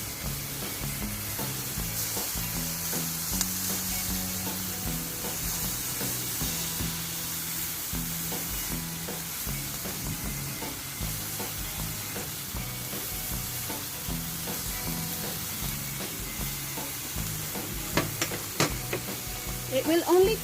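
Small stuffed squid grilling, giving a steady close sizzle and hiss that runs throughout, with faint clinks and a voice speaking quietly underneath.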